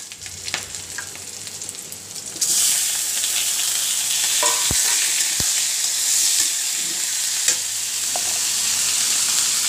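Chicken drops into fried onions in a kadai and sets off a sudden, loud sizzle partway through. The hiss stays steady after that, broken by a few sharp clinks and stirring knocks.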